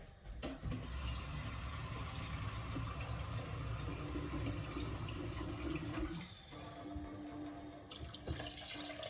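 Water runs steadily from a kitchen tap into a pot being filled for minestrone, a continuous soft hiss and gush that shifts in tone near the end.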